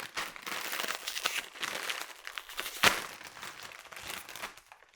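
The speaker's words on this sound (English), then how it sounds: "we have to mash all these Cheetos into a nice coating" Crinkly plastic bag crunching and crushing as Hot Cheetos are mashed inside into a coating for fried chicken, a continuous rustle with one sharper crunch midway.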